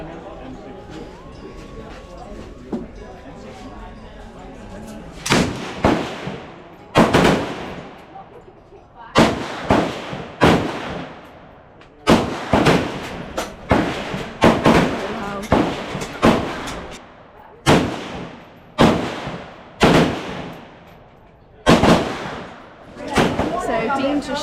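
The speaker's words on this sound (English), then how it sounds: "So Dean just shot 10 rounds of an AK-47" Loud AK-47 rifle gunfire at the Cu Chi Tunnels in Vietnam, roughly a dozen sharp single shots spaced a second or two apart, echoing after a quieter stretch of background noise at the start.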